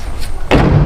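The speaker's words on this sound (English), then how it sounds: "the door opens and closes like butter now" A car door slams shut with a single solid thud, loud and close, on a vehicle frame under rust repair after some warping work, following a quieter moment with faint background noise.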